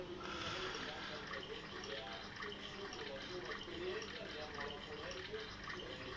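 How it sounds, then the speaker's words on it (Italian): Water runs and splashes continuously in Misao, a horror video game, as a character washes off blood, steady and fairly close, with a voice talking over it. "qui c'è l'acqua dove posso lavarmi dal sangue"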